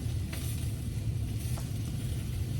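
Butter melts in a pan for British scrambled eggs, giving a soft, steady low sizzle throughout with a couple of faint crackles, fairly quiet and close.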